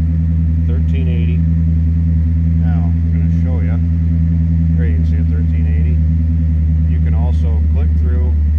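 A 1959 Chevrolet Corvette engine idles steadily and loudly, with a deep, even rumble throughout. Someone talks intermittently over it.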